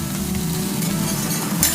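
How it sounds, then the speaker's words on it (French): Okonomiyaki of cabbage, bean sprouts and meat on a flour-and-water batter sizzles loudly on a hot griddle, a steady close hiss with light scraping, no voices. "on dépose du chou, des pousses de soja et de la viande sur de la farine diluée dans de l'eau. On retourne et on laisse cuire"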